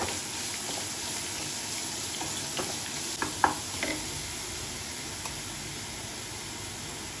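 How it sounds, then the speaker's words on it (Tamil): Ground shallots, garlic, dried chillies and tamarind sautéing in a pan for Karaikudi kara chutney give a steady soft sizzle with occasional faint stirring scrapes, close by and unbroken by talk. "சின்ன வெங்காயம், பூண்டு, காஞ்ச மிளகாய், புளி போட்டுக்கலாம். நல்லா வதக்கிக்கோங்க."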